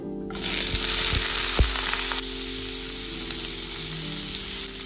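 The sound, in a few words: frying in hot oil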